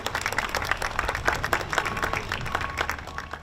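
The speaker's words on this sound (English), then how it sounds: "Another round of applause for him" An outdoor ceremony crowd at the Long Beach Motorsports Walk of Fame gives a round of applause: many hands clapping in a busy, uneven patter at moderate loudness throughout.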